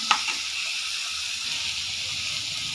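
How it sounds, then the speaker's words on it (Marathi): Onion, tomato, garlic and beetroot fry in hot oil tempering with a steady, close, bright sizzle and a faint stir at the start, no talking. "ते इथं फोडणीमध्ये भाजून घेत आहे"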